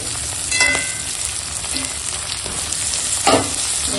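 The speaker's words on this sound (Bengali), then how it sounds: "এখন দিয়ে দেব এই কেটে রাখা আলু" Cut potatoes hit a hot pan and sizzle steadily in oil, with a few sharp spatters and stirring scrapes breaking through the continuous close frying hiss.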